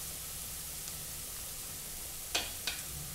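Green chilies frying in hot oil give a steady, soft sizzle throughout, with two brief sharp clicks of a spoon or pan near the end and no talking.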